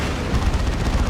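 Predator tank las cannon blasts in Dawn of War 2, a dense run of booming low-end bursts that pound steadily through the whole moment amid ongoing battle noise.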